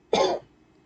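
One short, close cough bursts out, lasting a fraction of a second before fading to near silence.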